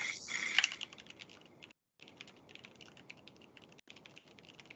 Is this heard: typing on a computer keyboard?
yes